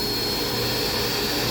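A carpet cleaning machine built like a truck mount, running three vacuum motors at full power, gives off a loud, constant roaring whine with no breaks.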